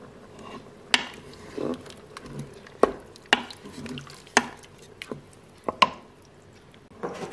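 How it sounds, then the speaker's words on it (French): Ingredients being mixed for a Cookeo recipe, with scattered sharp clacks and knocks of a utensil against the pot and softer stirring sounds between them, close and fairly clear. "donc là vous mélangez bien, je vais vous montrer"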